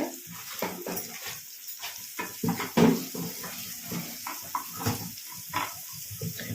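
Water poured into a pan of peas cooking with turmeric for pav bhaji, a soft splashing and sizzling bubbling with scattered clinks and stirring, close and fairly quiet, with no talk.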